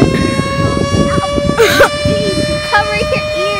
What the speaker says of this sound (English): We don't know where the tornado siren is.